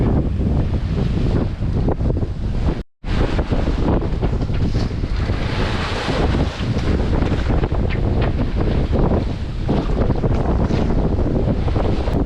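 Strong, steady wind of 18-20 knots buffets the microphone aboard a sailboat moving at 4-5 knots, with a roaring rush of air and water noise that continues without a break apart from one short dropout.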